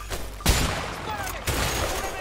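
Gunfire in the action game A Way Out comes as two sharp, loud shots about a second apart, each trailing into a rattling echo of game ambience.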